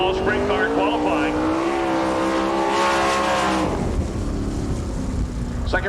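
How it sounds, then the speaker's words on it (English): Outlaw sprint car roaring around a dirt track during qualifying in Woodstock, Georgia, its high-pitched engine loud and close, holding a steady howl and then falling away as it passes. "Very early in Outlaw Sprint Car qualifying."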